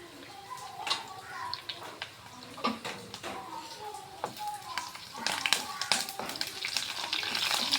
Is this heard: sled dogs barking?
no